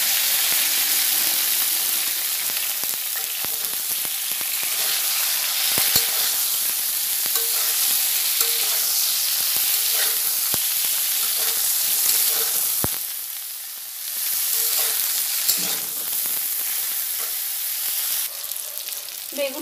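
Eggplant pieces frying in hot oil left after frying potatoes, for a vegetarian potato and eggplant curry: a loud continuous sizzle close by, with occasional stirring clicks and no voices.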